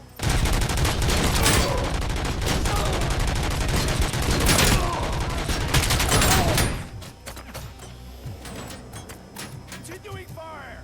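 Dense, continuous gunfire fills a RoboCop: Rogue City battle for several seconds at close range and high volume. It then drops to scattered, fainter shots, with voices mixed in.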